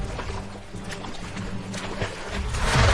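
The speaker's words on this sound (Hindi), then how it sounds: "मिंकू की बोट पानी में डूबने लगती है" A cartoon boat sinks into water with sloshing, gurgling splashes that build and grow louder toward the end, a moderately loud watery rush with no voices.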